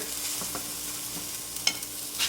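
Egg whites being flipped and cut with a utensil in a pan over a steady faint sizzle, with a few soft scraping taps and one sharper clink of the spatula against the pan.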